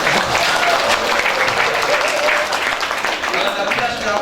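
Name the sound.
applause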